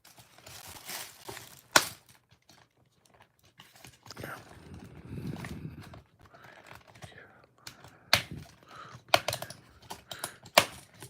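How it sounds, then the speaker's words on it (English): An Optimus Prime figure, an SS One release, is pulled free of its packaging: scattered plastic and cardboard crackles, tearing rustles and sharp clicks come close and in bursts, with a quieter muffled stretch midway. "let's get it all off to the side and get this bad boy out of the packaging"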